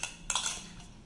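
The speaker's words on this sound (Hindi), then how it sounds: "ये बनाना हमारा बैटर में मिक्स हो गया है" A spoon clinks against a bowl while banana slices are mixed into pakoda batter, giving a few close, light metallic taps and a brief scrape, with no talking.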